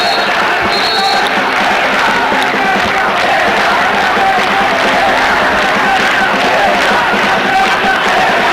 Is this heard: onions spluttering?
no